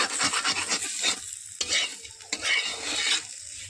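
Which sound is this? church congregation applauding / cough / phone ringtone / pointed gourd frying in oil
pointed gourd frying in oil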